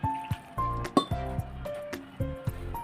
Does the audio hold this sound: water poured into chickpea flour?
yes